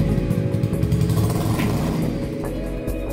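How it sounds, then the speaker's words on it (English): Engine of a Sunray GT solar hybrid car idling steadily up close, a continuous low mechanical drone with no talk over it. "I decided to fire the engine to ensure that all systems are in readiness to welcome the transmission."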